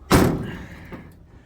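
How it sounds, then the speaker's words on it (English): One heavy, solid slam of an old Chevy G506 V8 truck door up close, followed by a soft lingering rattle and a faint second thud. "could use some lubrication on the door hinges or the latches"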